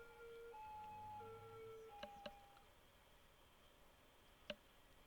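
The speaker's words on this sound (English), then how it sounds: "that was a really ugly ambulance that just drove by" Ambulance siren in the Cities: Skylines city-building game, heard as faint, stepped wailing tones across the first half, with a few sharp clicks around them.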